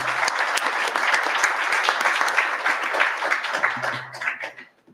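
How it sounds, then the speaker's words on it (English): An audience at an international conference on AI and security gives a short round of applause for panelists, dense clapping that holds steady and then tapers off toward the end. "can you please join me in thanking our panelists today and in a round of applause"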